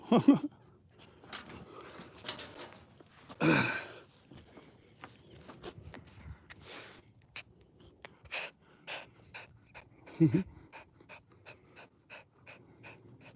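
A dog pants in quick, rhythmic breaths close by, with a few louder snorts and rustles breaking up the steady huffing.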